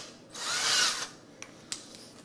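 A cordless power drill runs in one short burst, a loud whirring high-pitched whine that spins up and winds down, followed by a few light clicks as a table is being reinforced.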